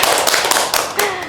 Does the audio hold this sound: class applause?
yes